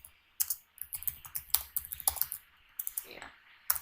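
Keys clatter on a computer keyboard in quick, irregular bursts of clicks with brief pauses between them, close and fairly quiet, the typing alone with no speech.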